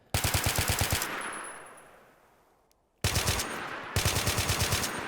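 Rapid automatic gunfire from Call of Duty Modern Warfare rattles in three loud bursts. A sustained volley trails off into a fading echo, then two shorter sharp bursts follow.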